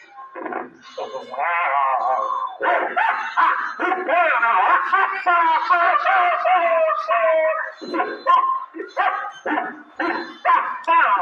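A mimicry performer at a school magic and ventriloquism show voices big dogs fighting, a continuous close stream of imitated barks, growls, yips and howls delivered loudly into the microphone.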